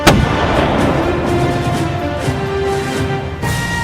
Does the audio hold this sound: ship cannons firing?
yes